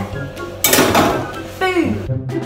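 Metal pots clatter and clink in a laundrette sink during a wild camping trip on the Great Glen Way, two bursts of ringing knocks close by, with a voice briefly present.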